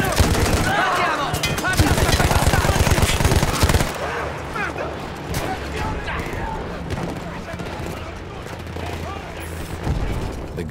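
Battlefield 1 gunfire: rapid machine-gun bursts rattle loudly for the first few seconds, then scattered distant shots and booms continue beneath shouting voices.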